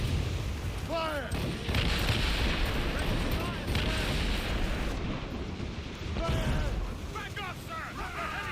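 Ship cannons boom in a naval battle in Assassin's Creed Rogue, heavy low blasts rolling under constant sea and combat noise, with shouting crew voices heard in between the shots.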